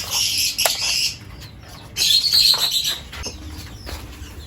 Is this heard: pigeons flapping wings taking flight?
yes